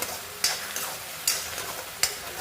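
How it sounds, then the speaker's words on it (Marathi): Onion paste sautéing in a pan for a Maharashtrian potato and pea curry, with a soft steady fry and a few distinct scraping strokes of a spoon, heard close and alone. "तर हे मी कांद्याची पेस्ट व्यवस्थित परतून घेणार आहे आता ते आपण व्यवस्थित परतून घेतो"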